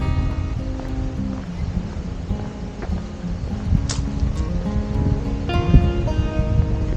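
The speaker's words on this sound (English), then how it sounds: "You can hear the waves." Waves wash onto the Lake Erie north shore near Pelee Island Point in a light breeze, a soft, continuous surf rush with wind noise and faint nearby rustles.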